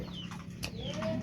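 A pigeon calls in short cooing and clucking bursts outdoors, moderately close over a background of other faint bird sounds, with no speech.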